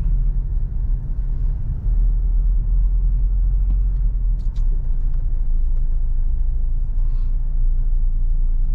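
A car drives along a road in Angeles, heard from inside as a steady, deep rumble of engine and tyres with faint rattles, close and continuous, with no talk.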